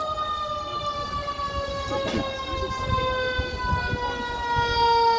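Fire engine sirens from Herculaneum and Dunklin fire protection district trucks wail steadily as they arrive at a mock car crash drill, loud and sustained with rising and falling tones over rumbling engine noise.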